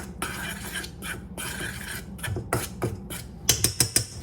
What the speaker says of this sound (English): Now I'm gonna just give that a little bit of a swirl.